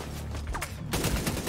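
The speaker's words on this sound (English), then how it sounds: "When I'm shooting through that AK, that heat." Sustained AK rifle fire in The Division 2, a dense rattle of close, loud automatic shots across the whole moment, growing heavier toward the end.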